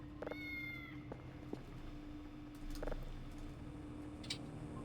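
A cat in the game Voices of the Void gives a short meow near the start, then fainter meow-like calls follow over a humming background, with no talking.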